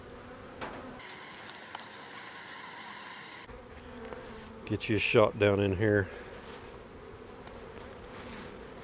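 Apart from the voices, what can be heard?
honey bees buzzing at the hive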